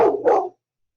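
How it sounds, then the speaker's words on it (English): A dog gives one short, loud bark, close by, split into two quick parts, followed by silence. "I bet you can hear the owner's dogs barking now."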